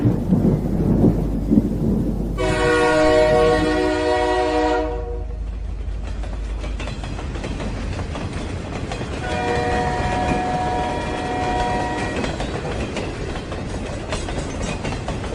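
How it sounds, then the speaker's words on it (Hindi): A train rumbles along the rails with a deep continuous roar, and two long horn blasts sound over it, the first loud and the second fainter, as part of the sound effects in a Hindi horror story. "सुबह की पहली ट्रेन पकड़कर श्यामू शहर से निकल पड़ा"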